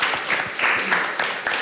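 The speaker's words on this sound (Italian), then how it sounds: "Io volevo fare un bel applauso a Nicolò." A small group applauds a young player named Nicolò after a youth football win, a quick, close round of uneven claps with loud individual hits and a voice briefly mixed in.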